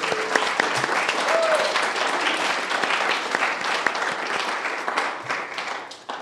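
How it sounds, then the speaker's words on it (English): An audience claps steadily for a search team, a sustained round of applause from a gathered congregation that thins slightly toward the end. "I was wondering if we could give them one more round of applause"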